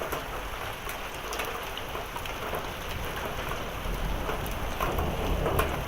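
Heavy rain and hail pour down in a severe thunderstorm, a dense continuous hiss with scattered sharp impacts throughout, close and steady, building slightly toward the end.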